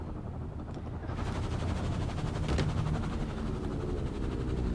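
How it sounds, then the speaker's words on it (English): A steady, noisy mechanical rumble with a faint rhythmic chop builds slightly and continues evenly, a helicopter hovering at a distance in the video game Firewatch. "I believe that's the helicopter"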